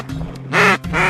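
Goldeneye ducks on open water give two loud, nasal quacking calls in quick succession, close at hand, with no voices over them.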